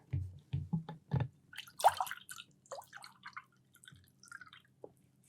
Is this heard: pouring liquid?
yes